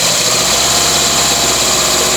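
A Citroen AX Sport engine with tubular exhaust runs with the choke applied, a loud, rough, fast-pulsing idle with steady vibration, heard close and alone.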